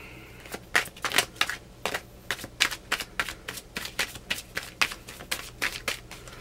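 Tarot cards riffled and shuffled by hand, a rapid run of crisp, close flutters and snaps repeating steadily for several seconds with no talk.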